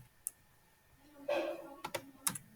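Several sharp keystrokes on a computer keyboard while writing code: a single tap, a brief burst of rapid clatter, then a few separate clicks, close and fairly quiet with no talk.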